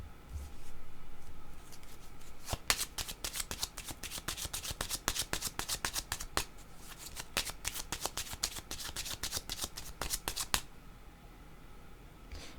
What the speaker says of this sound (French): Je vais prendre un autre jeu de cartes.